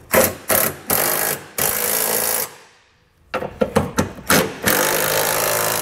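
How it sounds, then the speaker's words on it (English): Ratchet wrench with an 11/16 socket tightening trailer hitch bolts on the frame rails of a 2009 Honda Accord, fitting a Curt hitch receiver, heard as loud, close bursts of rapid clicking separated by short pauses, with no talking. "we're going to tighten down the bolts on our frame rails first with an 11/16 size socket"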